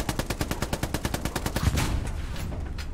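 Rapid automatic rifle fire in the video game Hell Let Loose, a long, loud, evenly spaced burst of shots that gives way to a rumbling echo and background din.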